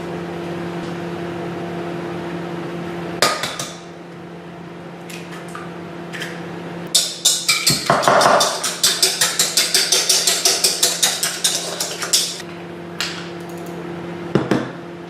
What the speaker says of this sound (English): on this bowl we break these 2 eggs, and we're going to mix them with 1/3 cup of yogurt